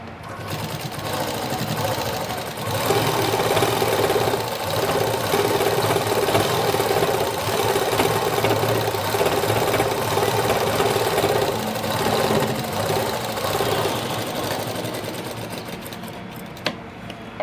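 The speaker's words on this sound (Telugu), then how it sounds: "ఇప్పుడు సైడ్ నుంచి ఒక కుట్టేసుకుంటూ వచ్చేద్దాము" Sewing machine running steadily for a long continuous stretch, stitching thread piping along the side of fabric, with a dense whirring hum throughout and a brief stop near the end.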